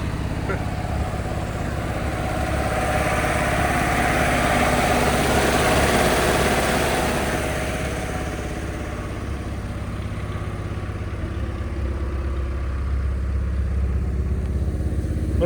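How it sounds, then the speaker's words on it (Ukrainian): An old GAZ truck engine runs steadily on a farm during wheat seed treatment, a loud, continuous low rumble with a faint clatter that holds throughout. "Газон вічний. Працює поки що, ніяк не вмре."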